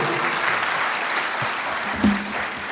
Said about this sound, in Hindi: एक बार जोरदार तालियां पवन कुमार जी के लिए।